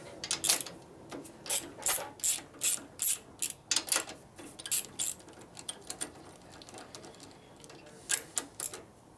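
A ratchet loosens and removes the starter bracket on a 1965 Harley-Davidson panhead 74ci FLH during a motor rebuild, making bursts of quick, close metallic clicking in uneven rhythmic groups separated by short pauses.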